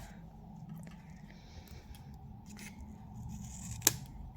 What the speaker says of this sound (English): the last bit you have, you simply cut in half